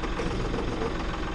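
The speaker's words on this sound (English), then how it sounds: "I am unloading the tractor." A farm tractor engine idles steadily at night while being unloaded, a continuous low rumbling drone with a faint knocking texture and no voices.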